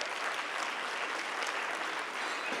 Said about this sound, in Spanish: para quien también les pido un aplauso,